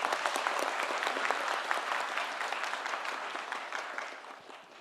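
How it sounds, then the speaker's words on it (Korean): Hall audience at a public policy meeting with the president and ministers claps in a brisk, crackling round that slowly thins and fades toward the end. "박수 한번 주세요"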